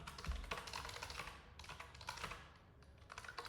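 Fingers type on a computer keyboard in quick, steady bursts of close clicking keystrokes with only brief pauses between them.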